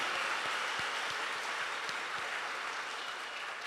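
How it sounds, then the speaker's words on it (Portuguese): A congregation at a Pentecost Mass claps together in a steady, dense burst of applause, moderately far off and fading slightly over a few seconds, with no talking. "Uma salva de palmas para o Espírito"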